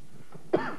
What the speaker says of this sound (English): I'm trying really hard not to cough into this microphone.